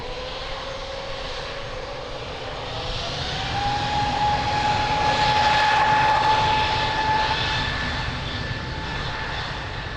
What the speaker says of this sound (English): Takeoff, Top Star Alliance livery